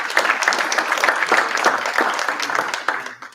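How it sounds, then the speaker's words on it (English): Applause from an audience at a leadership summit rises and continues for a few seconds, then thins out as the clapping tapers off. "I feel like we just need a round of applause"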